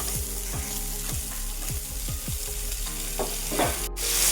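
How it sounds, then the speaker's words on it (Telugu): Fish pieces shallow-fry in a little oil as each is turned to its second side. Dense, loud sizzling runs throughout, with a repeating series of sharp pops and spatters. "ఇప్పుడు ఒక్కొక్క చేప ముక్కని అలా నిదానంగా రెండో సైడ్ కానీ కాల్చుకుందాం"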